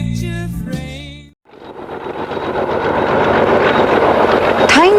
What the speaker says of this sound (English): Time to get back on the coach, onto the train and head north.